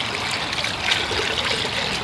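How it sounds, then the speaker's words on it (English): A hose runs warm water steadily over a dirty seat belt from a Ford Crown Victoria P71 police interceptor, giving a close, continuous hissing splash with no talk. "So I'm rinsing it in warm water."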